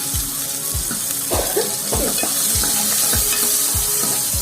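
Onions fry in oil in a pan for egg mutton soup, a steady sizzle broken by repeated scraping stirs of a spoon against the pan, close and fairly loud.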